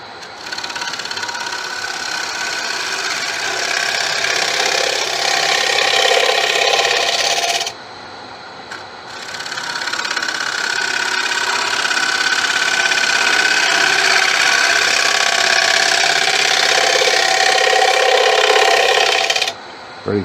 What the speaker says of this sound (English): Now I'm just going to hit the inside of that with the carbide just to clean it up, or to clean the resin up.